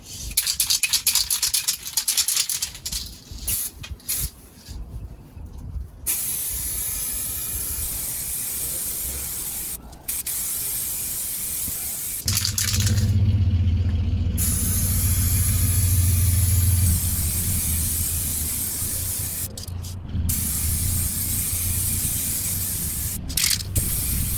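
A spray gun lays a final coat of paint on the roof section of a 2011 Jeep Grand Cherokee, giving loud, steady hissing bursts with brief pauses between passes, with no talking.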